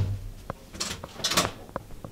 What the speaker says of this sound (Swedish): Oj, nu knackar det på dörren.